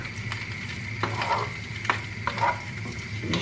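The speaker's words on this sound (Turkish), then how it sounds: "şöyle bir karıştırıyorum arkadaşlar" Sausages frying in sauce in a pan, stirred in a few scraping passes with soft clinks against the pan over a quiet, steady sizzle, close by and fairly faint.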